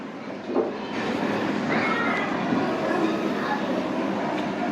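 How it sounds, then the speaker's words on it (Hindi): A single cat meow, a short pitched cry set against a steady background hum in a children's Urdu alphabet flashcard lesson. "बिल्ली बिल्ली"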